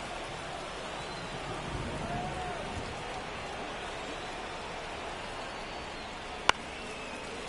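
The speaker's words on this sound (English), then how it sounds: "This rain is not letting up." Steady hiss of rain pouring over a baseball stadium during an MLB 24 video game, a constant wash of noise with faint voices underneath and one sharp click near the end.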